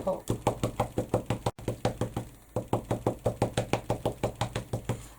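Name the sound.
stamping with a rubber stamp and ink pad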